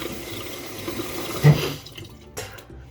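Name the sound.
water rinsing off face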